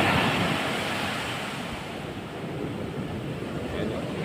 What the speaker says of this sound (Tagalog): Nag-alburoto yung dagat.